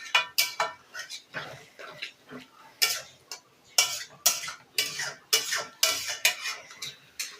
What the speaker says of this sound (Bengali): দিয়ে আবারও একটু ভালো করে নেড়ে নেব।